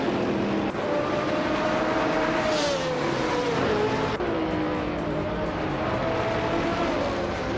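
Race car engine in a racing video game, a 24 Gillette Vertigo, droning steadily and loudly throughout with a sustained whine that rises and falls as it shifts, no talk over it.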